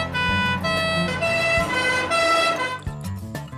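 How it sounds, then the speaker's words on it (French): A cartoon ambulance siren wails in a loud, sustained two-tone pattern with a rumbling vehicle underneath, the tone cutting off sharply near the end before a few brief bursts. "Envoyez tout de suite une ambulance rue des Bleuets"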